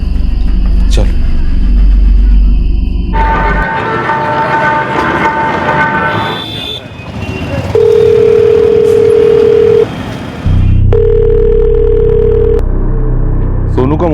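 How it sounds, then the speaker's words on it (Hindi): A mobile phone rings out on a call, with a steady repeating ringback tone in two long beeps, preceded by a vehicle-like rumble and other ambient sounds. "रिंग तो जा रही है।"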